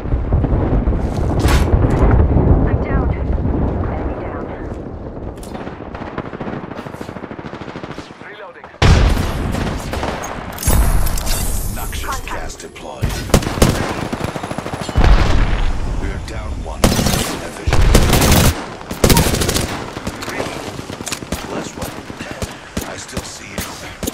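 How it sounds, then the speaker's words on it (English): Loud bursts of rapid gunfire in the video game Apex Legends come in repeated volleys over about twenty seconds, separated by short pauses and breaks in the sound. "They spotted me. I'm taking shots."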